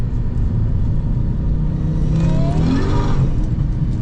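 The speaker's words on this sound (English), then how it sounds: "Well, maybe I'll put it in second. And it'll just lay a patch of rubber." Supercharged manual-swapped Lexus GS400 accelerating hard in second gear through an off-camber turn, a loud, steady engine roar close by with a rising supercharger whine midway, no talking.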